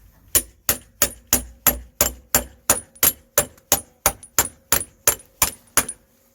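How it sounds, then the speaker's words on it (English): A hammer taps a CV joint into a Ford Transit in a steady rhythm, about sixteen sharp, ringing blows at an even pace, close up with nothing else around. "we're gonna tap it all the way in with a hammer"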